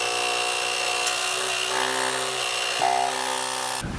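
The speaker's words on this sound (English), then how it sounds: "I've got my air pump here. I'm going to turn it on" A small electric air pump runs continuously, inflating a scooter handlebar grip on an Apollo electric scooter, giving a loud steady buzzing hum with a brief shift near the end before it cuts off.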